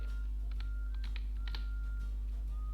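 Short bursts of keystrokes tap on a computer keyboard as a web address is typed, quick clustered clicks over a constant low electrical hum, with no talk.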